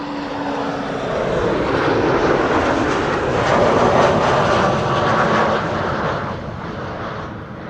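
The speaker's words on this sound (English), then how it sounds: "This is KLM flight 1088. It's number 190 arriving from Cardiff." A KLM Embraer 190 airliner arriving at Amsterdam Schiphol from Cardiff on a sunny day, its broadband engine roar swelling steadily, peaking midway and easing off as it passes fairly close.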